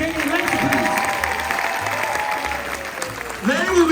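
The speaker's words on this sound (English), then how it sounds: "Can we have a round of applause for JP King and Lexi" A theater audience at a film Q&A gives a sustained round of applause, with crowd noise and a voice mixed into the steady clapping.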